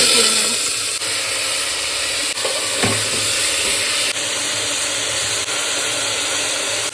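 A pressure cooker hisses with a steady, loud rush of steam that runs throughout, punctuated by a few faint clicks.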